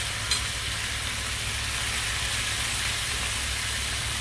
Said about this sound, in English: now I'm going to add my butter to it